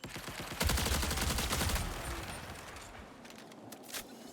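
Automated turret fire in the shooter Marathon rips out as a loud, rapid burst lasting about a second, then trails into rumbling echo and a few scattered distant shots.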